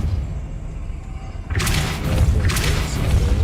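A Depulso spell is cast in Hogwarts Legacy, breaking over a low rumbling background as a sudden broad blast, followed by a second burst about a second later.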